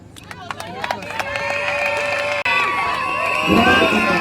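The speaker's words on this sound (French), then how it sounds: "Sous vos applaudissements, le premier candidat au mariage, Monsieur Guélor." A crowd cheers and claps loudly, building into a swell of applause and shouts that continues to the end.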